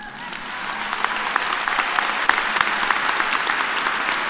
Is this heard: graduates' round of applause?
yes